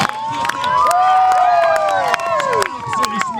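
A fairground show crowd roars and cheers loudly and continuously, with shouting boys, whistles and scattered claps layered over a dense, steady wall of voices.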